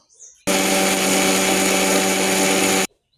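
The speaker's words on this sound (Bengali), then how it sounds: "এই যে এতে মিক্সারে দিয়ে দিয়েছি পেস্ট বানিয়ে নেব" A kitchen mixer grinder whirs loudly and steadily for about two and a half seconds as it grinds poppy seeds with cardamom and green chilli into a paste, starting and stopping abruptly in a quiet room.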